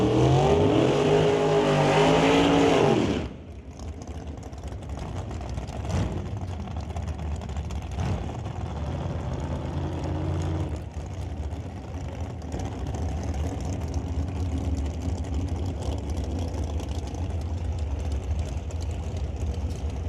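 Top dragster race cars roar at a drag strip during a final, with a loud revving engine burst at first, then a sustained rumbling drone of engines heard from a distance.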